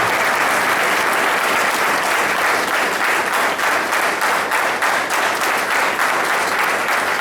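Sustained, dense applause from a church congregation at a Christian gathering in Singapore, a steady loud wash of many hands clapping throughout without a break.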